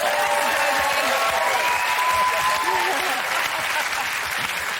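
Steady applause from a TV quiz show studio audience, sustained clapping filling the whole stretch at an even, fairly loud level.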